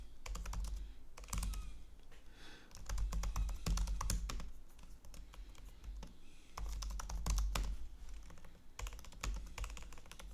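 Typing code on a computer keyboard, a steady clatter of close key presses in uneven bursts with brief pauses between them.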